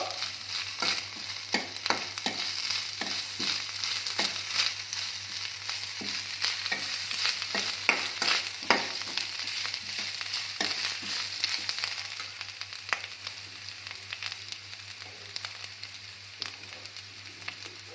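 Grated coconut dry-roasting in a pan, a steady soft crackle and scraping stir running throughout with a low constant hum beneath, fading slightly toward the end.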